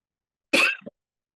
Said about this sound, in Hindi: मुझे खांसी भी आज हो रही है थोड़ी